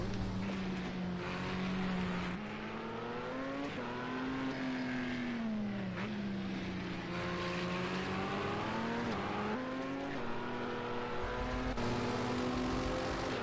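LMP race cars at the Nürburgring accelerate down the straight with a loud sustained engine drone whose pitch rises and falls through gear changes, one car close and steady throughout.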